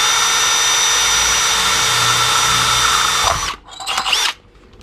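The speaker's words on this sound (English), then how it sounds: "So we're just going to drill this out." A Milwaukee power drill whines loudly and steadily while boring a 1/4-inch hole in a shop vac, then stops abruptly, leaving a few short clicks and rattles at close range.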